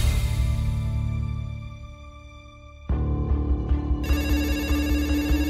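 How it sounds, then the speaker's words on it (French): A telephone rings at a police station, a tonal electronic ring that fades, then returns louder with a brighter repeating tone, clear and prominent with no talking. "le téléphone sonne au commissariat"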